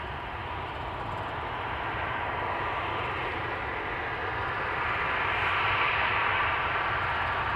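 An airliner taking off at Amsterdam Schiphol Airport, its jet engines producing a broad, steady roar that swells gradually louder over several seconds, heard alone without talk.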